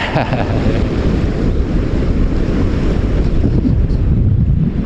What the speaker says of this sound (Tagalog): So medyo maingay ang ating karagatan ngayon.